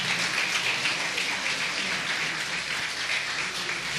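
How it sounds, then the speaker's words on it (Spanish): A church audience gives the actors of a staged storm scene a dense, steady round of applause from many hands clapping together, sustained and fairly loud throughout. "Y un fuerte aplauso a los actores,"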